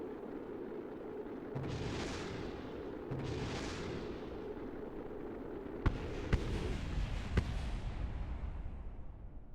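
A probe in Kerbal Space Program burning up in Kerbin's upper atmosphere gives a steady, broad roaring rumble that swells in two long surges, then sharp cracking pops near the end, with no talk.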